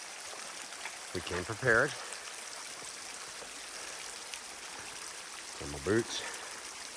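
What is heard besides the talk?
river flowing in the wilderness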